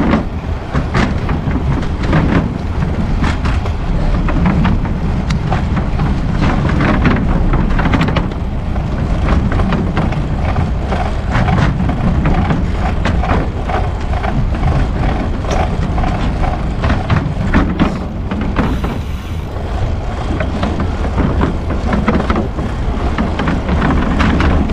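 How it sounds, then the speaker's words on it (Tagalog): A dry bicycle chain rattles and clicks continuously while riding along a bike lane in Dubai, a loud, steady mechanical clatter with dense rapid ticking and no talk. "Ang ingay. Dry na dry ata yung chain ko ah."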